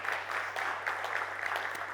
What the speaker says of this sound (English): big round of applause to the team here.